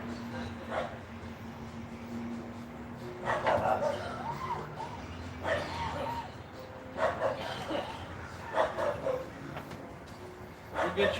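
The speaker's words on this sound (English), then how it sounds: "that dog just goes and goes and goes and goes" Dog barking in repeated bursts at a distance outdoors on a street on trash day, recurring every couple of seconds over steady background noise with some talk.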